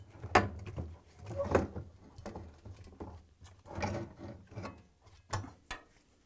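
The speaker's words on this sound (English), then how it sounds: "Using the 10mm socket wrench, unscrew the 3 bolts, turning them counterclockwise, and remove the top counterweight" A 10mm socket wrench loosening bolts on the counterweight of an LG/Kenmore washer: scattered metallic clicks and ratcheting turns with short knocks, close by and uneven in rhythm, between quiet gaps.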